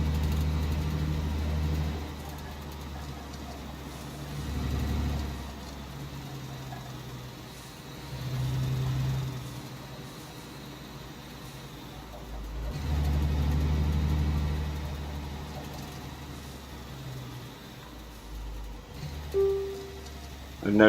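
Truck engine in the Alaskan Road Truckers game, driven with a steering wheel: a steady low drone that swells and eases in slow waves as the truck accelerates, with faint background talk.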